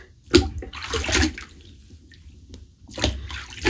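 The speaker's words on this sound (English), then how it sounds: "I'm going to rinse off really good this time" Water splashing as a face is rinsed after a shave with a 1950s GEM Featherweight safety razor, close handfuls of water in two bursts separated by a quiet pause.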